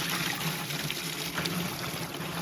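Water pours and trickles steadily from a bucket into a container, a continuous splashing flow with no voices.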